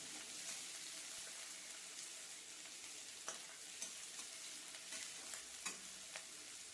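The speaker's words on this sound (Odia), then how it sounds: "ଚପ୍ କରିବା ପିଆଜକୁ ଗରମ ହୋଇଥିବା ତେଲରେ ଆଡ଼୍ କରି ନେବା। ପିଆଜକୁ ଆମେ ଭଲ କରି ଭାଜି ନେବା।" Chopped onions fry in hot oil for a chicken curry, giving a steady soft sizzle with occasional stirring scrapes and clicks from a utensil in the pan, close and fairly quiet with no talking.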